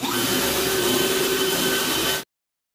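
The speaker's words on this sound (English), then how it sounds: "I would say the bit part is grinding." A drill bit grinds steadily into wet, poor-quality wood during a rustic guest cabin fixer-upper, a loud continuous whirring drone that runs unbroken for about two seconds and then cuts off abruptly.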